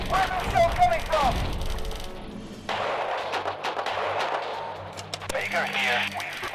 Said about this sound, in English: Where's the shell coming from?